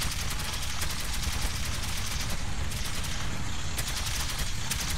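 Rapid automatic gunfire from the player's weapon in the video game Metro 2033 Redux, a steady loud stream of shots rattling for the full stretch without pause, no talking over it.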